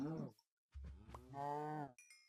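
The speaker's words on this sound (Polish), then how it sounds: "A, krówki, krówki" Cattle lowing in the Minecraft video game: two drawn-out, tonal moos, a short one followed after a gap by a longer, louder call, close and clear with no talk over them.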